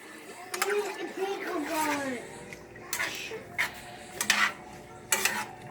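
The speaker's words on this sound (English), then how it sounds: "So now I'll just get it all mixed together, get it nice and even and smooth" A utensil stirs and mixes a mushroom, onion and butter sauce in a pan, clinking and scraping against the metal in short bursts while someone talks over it.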